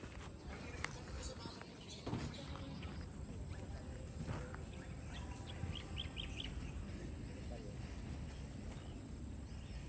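Birds chirping faintly in the distance over a steady outdoor background of wind and rustle, with a few brief tweets standing out.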